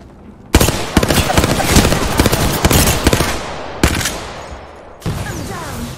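Several loud bursts of automatic gunfire in the Apex Legends video game crack out one after another, with short pauses between volleys and a final separate burst, close and dominant with no talk.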